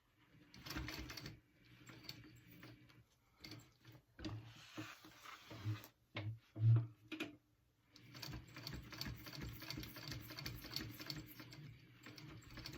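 Bursts of a sewing machine stitching a tote bag handle, quick rhythmic runs starting and stopping with short pauses between, fairly close and moderately quiet, no talking.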